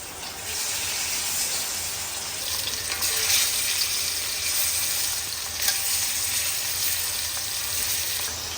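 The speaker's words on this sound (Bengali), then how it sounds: "তেল দিয়ে দিব মাছ ভাজার জন্য।" Oil sizzles and crackles steadily in a hot pan as flying fish fry, a continuous bright hiss with a few louder spits and no talking.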